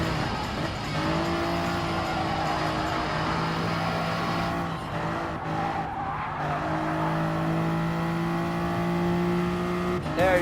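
Race car engines in Gran Turismo Sport, a BMW M6 among them, holding steady high-pitched revs close by with tire squeal and shifting engine tones throughout.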